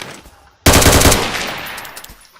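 Rapid automatic gunfire in a Roblox shooting game, a loud burst of tightly spaced shots that starts suddenly and then tails off into ringing echoes.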